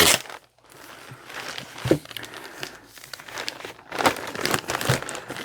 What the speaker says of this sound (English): Well, this required an extra large plastic bag.